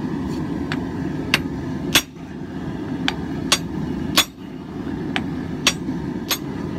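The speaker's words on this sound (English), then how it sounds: "I'm going to use a top tool called the flatter. Just give it a good scrub," Hammer blows striking a flatter top tool on hot steel while a stump anvil is forged, about a dozen sharp ringing strikes in an uneven rhythm over a constant background roar, close and loud.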